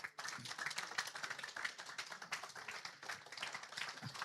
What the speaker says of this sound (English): Let's do a round of applause for Daddy